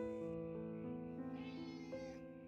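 A cat meowing indoors in an entrance hall, a drawn-out, tonal, wavering meow followed by another rising call, fairly close and clear with no talking over it.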